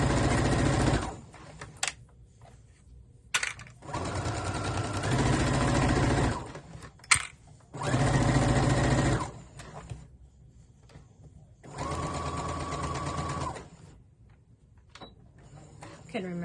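An embroidery machine stitches out a treat jar koozie in several loud, even mechanical runs of a few seconds each, separated by quiet pauses with small clicks.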